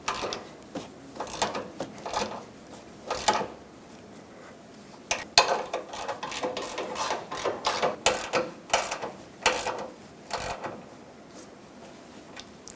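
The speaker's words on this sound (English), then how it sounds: "Let's tighten the other two up and then we'll torque it." Ratchet tightening bumper bracket bolts on a 2007-2014 Chevrolet Silverado 2500 HD: repeated bursts of close metallic clicking and clattering, stopping and starting in irregular runs.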